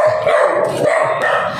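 A dog barks nearby, several quick, close barks in a short burst.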